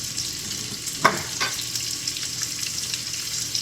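Fully cooked pork loin and garlic frying in a hot pan, giving a continuous bright sizzle with a short scrape of stirring near the start, fairly close and with no voices.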